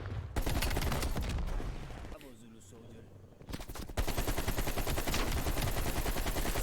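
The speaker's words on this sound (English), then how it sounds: "I had to empty my magazine into that one" AK rifle bursts from Call of Duty: Black Ops Cold War, loud rapid automatic fire in sustained strings, a brief lull with a faint voice, then another dense burst.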